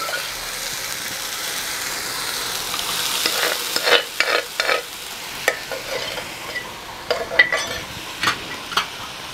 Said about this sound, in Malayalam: ഇതിലേക്ക് നമ്മൾ വേവിച്ച് വെച്ചിട്ടുള്ള പരിപ്പും തഴുതാമയുടെ ഇലയും